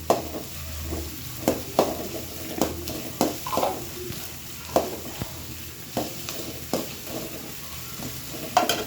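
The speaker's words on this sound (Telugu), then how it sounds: "ఎక్కువ ఫ్రై చేసుకోకూడదండి" Carrot, chilli, beans and capsicum stir-fried in a pan, a soft steady sizzle broken by repeated sharp scrapes and clanks of a spatula at a regular rhythm, close by with no voices.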